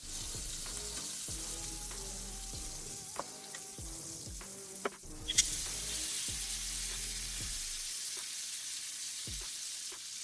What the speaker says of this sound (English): So this is going to be more of the same, searing all sides.